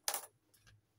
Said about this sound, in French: j'ai que des pièces que je vais venir mettre dans le pot challenge pièces